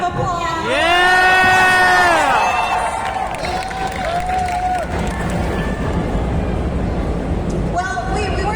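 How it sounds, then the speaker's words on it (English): Festival audience whooping and cheering loudly in a rising, wavering chorus of voices at the start, then settling into a sustained crowd roar with scattered shouts. "I think that deserves a round of applause."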